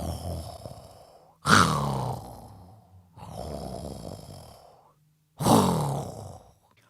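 A storyteller imitates Santa Claus snoring, two cycles of loud rasping inhaled snores, each followed by a softer drawn-out exhale, close and alone with no other speech.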